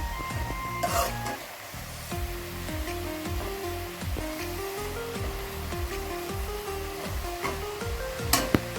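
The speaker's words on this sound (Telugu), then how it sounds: "ఆకుకూరలు పాలకూర వేసుకున్నాక కలుపుకుందాము ఒక్కసారి." Spinach stirred in hot oil in a pan gives a continuous close sizzle with repeated scraping strokes of the spoon, while a tonal hum runs underneath throughout.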